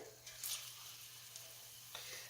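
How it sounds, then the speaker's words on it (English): Plantains shallow frying in oil in a skillet give a steady, moderate sizzle with a few brief louder crackling bursts, heard close up and without talk. "Now I'm going to be shallow frying them"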